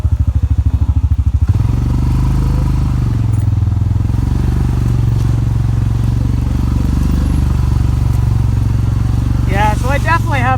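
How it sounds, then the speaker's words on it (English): Side-by-side UTV drivetrain running in 4-wheel drive with a grinding, clattering noise like stripping splines, a steady loud mechanical drone with rattles and scrapes, close up, with brief high squeals near the end. "When I'm coming down a hill, especially if it's in 4-wheel drive, I can hear, it sounds like splines stripping."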